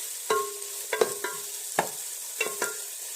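Onions frying in oil in a pan for a Mangalore dhaba-style chicken curry, a soft steady sizzle broken by a handful of distinct clinks and scrapes of a spoon stirring, close and without speech.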